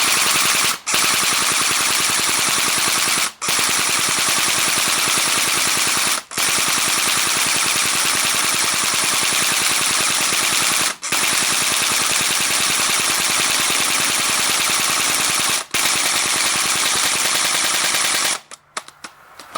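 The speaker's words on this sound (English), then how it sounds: "I'm just going to go full auto and we're going to shoot this pumpkin." A Bolt B4A1 BRSS blowback airsoft rifle fires full auto at a pumpkin in long continuous rattling bursts, loud and close, broken by a few brief pauses before stopping.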